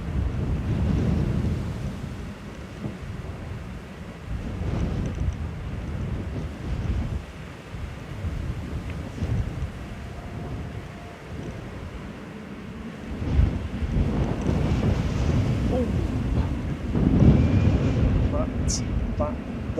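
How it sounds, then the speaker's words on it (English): Loud, gusty wind buffets the microphone as a rain cover flaps and rustles nearby in uneven bursts, with no clear speech, at an airport. "Apologies if you can hear my rain protection flapping around in the wind."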